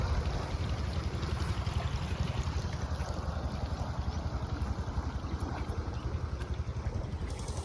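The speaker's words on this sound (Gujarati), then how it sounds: "કેનલમાં પાણી જઈ રહ્યું છે" Irrigation water rushes steadily through a canal into a wheat field. The flow is a loud, continuous close-up roar that blends with rumbling wind noise on the microphone.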